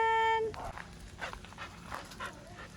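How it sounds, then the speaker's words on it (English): A small pack of rescue dogs gives scattered whimpers and yips at a moderate distance following a brief tone, with a soft voice audible in the background. "So this is a smaller pack of dogs"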